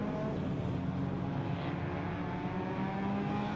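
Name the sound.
race cars driving on a circuit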